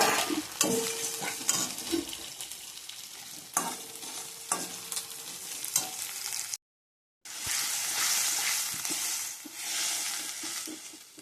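Onions and green chillies hit hot fish-frying oil with a bright crackling sizzle, while a spatula scrapes and clatters against the pan in repeated stirring strokes. A brief silent gap interrupts the noise before the sizzling resumes.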